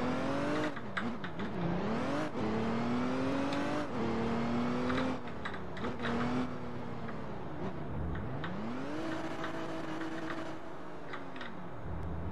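A car engine in the Roblox video game at an illegal car meet hums and revs continuously, its pitch repeatedly rising and dipping as the car accelerates and slows, loud and close with no talk.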